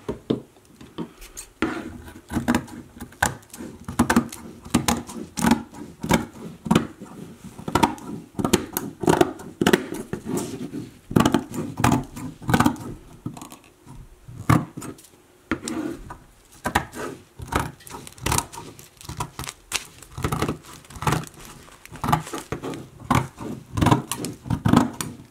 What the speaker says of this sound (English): my other step is to start cutting the edges from here to here and to here, all around